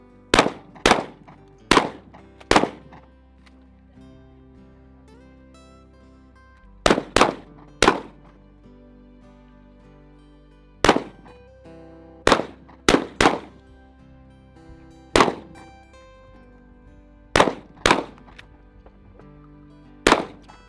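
Shotgun blasts ring out at an annual clay-shooting turkey shoot, sharp loud reports arriving singly and in quick pairs and triples at irregular intervals, each with a short echoing tail over a quiet outdoor background.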